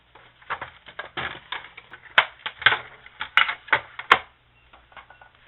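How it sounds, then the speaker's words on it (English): Paper trimmer blade slicing through cardstock at an angle while making an Easter card: a quick run of crisp, dry cutting clicks and crunches, close and fairly quiet, with no talking. "I'm going to line it up in my trimmer, and I'm just going to cut from here at an angle"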